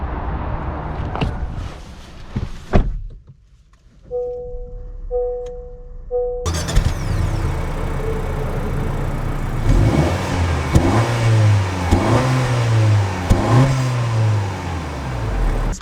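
A few electronic chime tones sound inside a 2022 Honda Civic with a 1.5L turbo engine, then the car pulls away and drives, engine note rising and falling through repeated accelerations up close.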